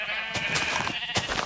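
Sheep bleat in FTB Minecraft, a few short wavering cries heard close and clear over a steady background hum, with no voices.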